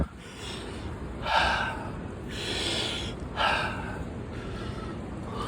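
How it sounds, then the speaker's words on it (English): Slow, deep breaths drawn in and let out outdoors among rocks and crystals, each breath a soft airy rush, close to the listener, repeating three or four times with no talking. "Breathe in and out."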